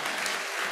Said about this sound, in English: clap it up for y'all